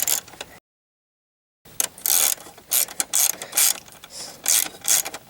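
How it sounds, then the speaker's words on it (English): A ratchet wrench clicks rapidly in bursts while installing a rear rack on a Yamaha XT250 motorcycle, close and sharp, after a short silent gap, the clicking stopping and starting repeatedly. "Ratchet was switching sides on me."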